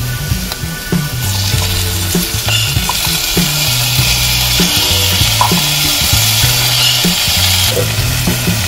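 Tomato fries in a pan with urad dal and curry leaves for masala dosa filling, a loud sustained sizzle over rhythmic scraping and stirring strokes, no talking.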